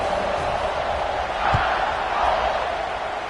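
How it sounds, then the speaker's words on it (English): Stadium crowd noise at a night football game as fans cheer the home team's first offensive possession, a steady broad roar of many voices swelling slightly midway, with a sharp thump near the middle. "these fans, they get something to cheer about with that first offensive possession"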